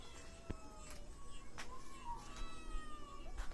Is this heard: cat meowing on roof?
yes